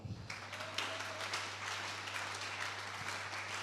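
Congregation applauding together during a church service, a steady wash of many hands clapping for a few seconds over a low constant hum, with no talking.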